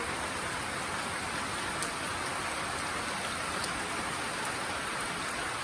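Monsoon rain falls steadily in a dense, even hiss, with occasional distinct drips and taps on a nearby surface, constant throughout and without voices.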